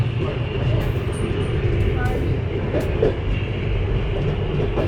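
The Doğu Express passenger train from Kars to Ankara rolls along with a continuous low rumble and rattle of the carriages, heard from inside at the back of the train as people talk nearby.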